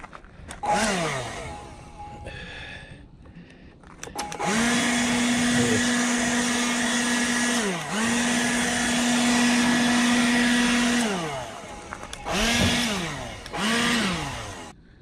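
A leaf blower clears dust, dirt, sticks and twigs off a vehicle, its steady whining motor roaring loud and close in long continuous bursts, briefly dipping between passes and revving up again near the end.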